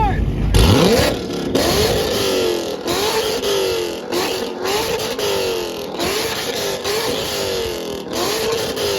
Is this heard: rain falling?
no